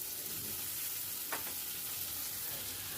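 Chopped tomato sizzles and fries steadily with onion in butter in a pan, a continuous hiss with a brief stirring scrape midway and no talking.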